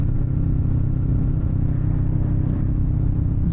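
A 2022 Honda Rebel 500 ABS with a parallel-twin engine running steadily while riding, a close, loud, even low-pitched thrum with no voices.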